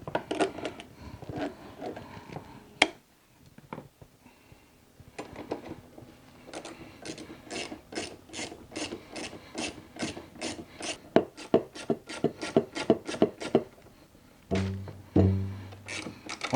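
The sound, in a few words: tightening bottom cable on a BAL Exact-Slide room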